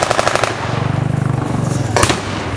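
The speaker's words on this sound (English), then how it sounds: "Now that American weapon is a grease gun." An M3 grease gun fires at a 1940s weekend reenactment, a loud, close run of rapid automatic shots followed by a second short burst a moment later.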